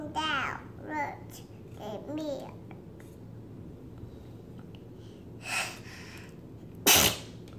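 A short, sharp sneeze bursts out near the end after a toddler's babbling and a mother's soft speech in a quiet room during reading time, with a snort-like breath a moment before.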